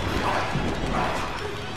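A wolf in the Tomb Raider game barks and yelps in short, loud bursts amid a noisy, busy game mix.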